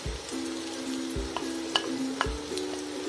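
Onion, garlic, ginger and green chili frying in a pan for aloo palak, a steady soft sizzle broken by several stirring scrapes and light clinks, close and alone with no talk.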